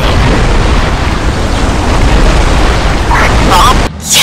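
A bomb detonates in the Iron Wings video game on Xbox One, during the farm mission: a loud, sustained roaring blast rumbles for several seconds, then cuts off abruptly into a brief quieter tail.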